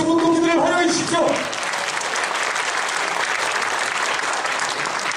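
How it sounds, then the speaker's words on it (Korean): Audience applause welcoming delegates at a national gathering of labour activists, a dense, loud, sustained clapping from a large crowd that swells in after a spoken introduction and carries on steadily. "뜨거운 박수 환영해 주시기 바랍니다"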